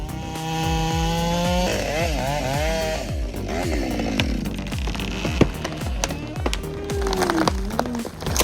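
During logging, a chainsaw felling a tree runs loud and close with a steady, buzzing engine whine that rises and dips as it bites into the wood, joined near the end by sharp cracks and thumps.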